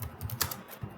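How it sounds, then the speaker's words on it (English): Someone types on a computer keyboard, quick uneven key clicks close by and fairly quiet, with no talk. "Now you notice here that I'm typing"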